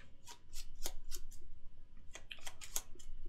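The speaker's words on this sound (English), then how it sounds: "We are going to shuffle up the deck." Board game cards being shuffled on a table in a series of crisp, quick riffling snaps and flicks, close and fairly quiet, with no talking.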